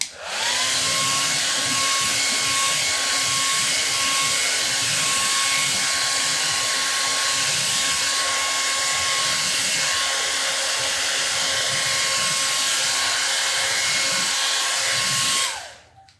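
A hair dryer blows steadily to dry paint on a stencilled wooden Pledge of Allegiance sign, a loud continuous whine with a constant pitch that runs for about fifteen seconds and then cuts off.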